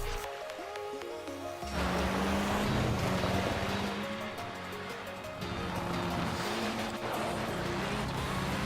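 A Forza Horizon 4 rally car, the Ford Focus Hoonigan, drives a continuous stretch with a loud, steady engine roar that shifts pitch as the car gears up. Splashing and wash noise run through it, and music plays underneath.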